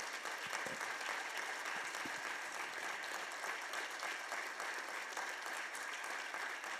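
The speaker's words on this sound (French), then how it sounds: "Donc on applaudit toute l'équipe et Lucien." An audience at a city-of-the-future event claps for the organizing team, a steady, moderately distant patter of many hands that holds evenly for nearly seven seconds.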